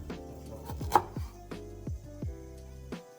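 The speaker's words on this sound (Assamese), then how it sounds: "আদা চপ কৰি ল'লোঁ।" Knife chopping ginger on a board while making crispy Peking duck at home, about six or seven distinct close thuds at an uneven pace, with no talking.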